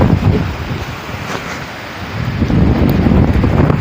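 Strong gusting wind of a dust storm buffets the microphone in a loud, continuous broadband rush that surges and eases, strongest at the start and end.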